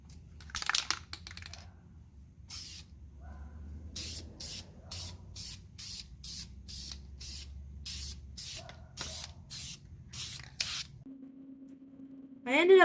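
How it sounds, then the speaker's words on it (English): A spray can hisses pink paint onto a part laid on plastic sheeting, in about a dozen short, sharp bursts with pauses between, ending in a brief clatter. "I put some plastic down and then spray painted it pink"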